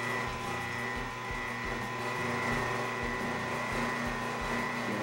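An Omega NC800 juicer motor run in reverse and forward to clear the auger with mixed vegetables inside, producing a steady low hum and drone with faint rhythmic pulsing, close and moderately quiet, with no talking.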